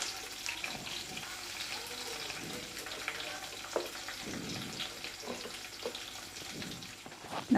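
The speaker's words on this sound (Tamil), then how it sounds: "வெங்காயம் நல்லா வதங்கட்டும்" A steady sizzle of finely chopped onions frying in hot oil for capsicum gravy, with soft crackles and the occasional clink of a utensil stirring the pan.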